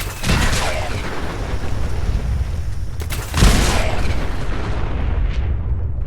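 A big explosion goes off in a video game, a steady heavy rumbling boom with a sharper burst around the middle, loud and sustained throughout with no talking.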